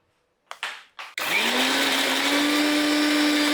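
A kitchen mixer grinds garlic, green chillies and cumin into thecha: a few short bumpy pulses, then a loud, steady, continuous whirring roar close by.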